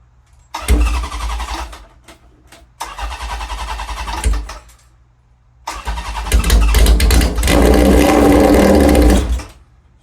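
Chopper motorcycle engine with the choke on cranked by the starter in three separate attempts, each a loud churning whir, the last one longest, without catching and with no talking.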